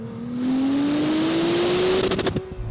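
A 2018 Acura NSX hybrid supercar on the road, its engine note climbing steadily in pitch as it accelerates, loud and close, ending with a few rapid clicks as the revs settle.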